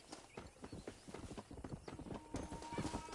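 Rhythmic clip-clop of horse hooves moving at a steady trot, followed by a horse neighing near the end, with no talking, in the video game Red Dead Redemption.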